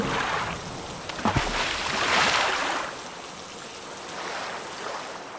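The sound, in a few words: rain over a river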